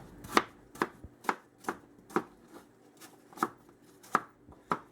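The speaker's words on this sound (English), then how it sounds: "Can be done with any kind of a knife. I use my same chef knife." Apples are chopped for pie with a chef's knife on a cutting board, about a dozen crisp, evenly spaced knocks of the blade in a steady rhythm, close and clear with no talk.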